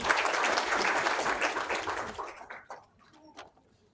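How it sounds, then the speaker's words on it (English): Applause from the audience at a family medicine board convocation for first-time diplomates, dense clapping for about two seconds that tapers off into a few scattered claps. "I want all the first-time diplomats to clap for themselves as well."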